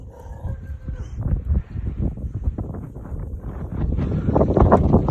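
Strong, cold mountain wind gusting and buffeting the microphone in rough, roaring bursts that swell louder toward the end.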